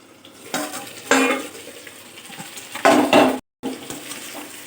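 A lid goes onto a cooking pan of fried pointed gourd in a Bengali doi potol dish, giving a few clattering metal knocks and scrapes over a low frying sizzle, with a brief silent gap near the end.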